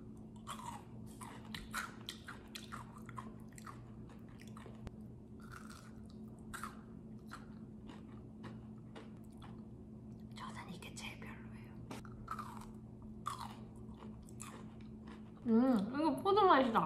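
Crunchy kohakutou crystal candy, mixed berry and grape flavours, chewed close to the microphone: soft repeated crunches and bites in a quiet room, with whispering between bites and louder noise at the end.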